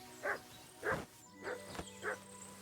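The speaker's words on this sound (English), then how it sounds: "I hate that Mutt just non-stop barks when there's something dead around" In the video game Kingdom Come: Deliverance II, a dog barks four times at an even pace, each bark short and moderately close, with faint ambient sound between them.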